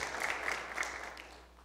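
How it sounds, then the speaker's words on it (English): A church congregation claps together in praise, a brief burst of applause that fades out, heard from a distance in a reverberant hall. "Let's give the Lord a clap offering."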